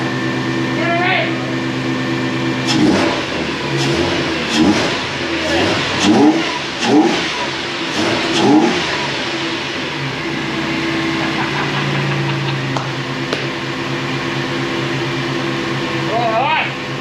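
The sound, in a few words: Barra engine starting and revving in FJ45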